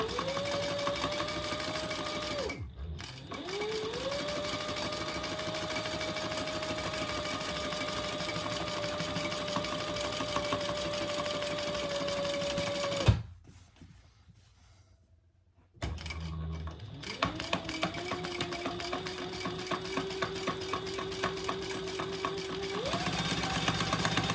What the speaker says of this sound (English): I'm just going to do, on my fabricator, I'm just going to do a stitch in the ditch.